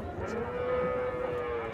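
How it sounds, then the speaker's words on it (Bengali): A pregnant four-toothed Holstein Friesian cow at a cattle market lows once in a sustained, steady moo lasting under two seconds, close and clear with no speech. "শুরুতে যেটা দেখছি হলস্টাইন ফ্রিজিয়ান, চার দাঁতের গাভী"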